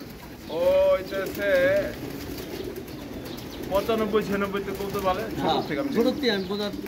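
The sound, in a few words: pigeons cooing in a pigeon loft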